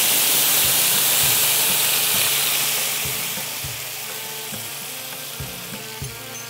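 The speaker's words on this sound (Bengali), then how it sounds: "এবার ডাল দিয়ে দিচ্ছি।" Lentils (dal) tipped into a hot pan of oil, a loud steady sizzle that slowly settles while a utensil taps and scrapes the pan in a loose rhythm.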